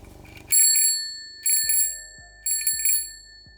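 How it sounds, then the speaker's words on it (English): A basic bicycle bell rings in three separate bursts of quick double or triple dings, clear and close, each ring decaying into a sustained metallic tone, with faint low noise before the first ring. "Same basic bell."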